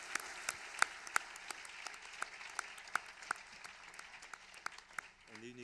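Sparse, light clapping from a small audience at an awards ceremony, scattered individual claps with a faint voice underneath before a short tonal sound at the end.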